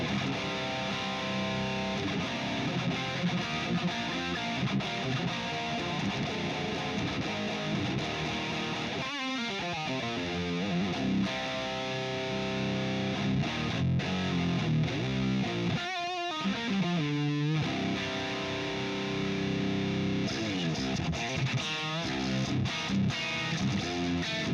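Distorted electric guitar with Seymour Duncan humbucker pickups plugged straight into a modded amp, dense sustained crunchy chords and riffs with a few squealing bends, played continuously and alone.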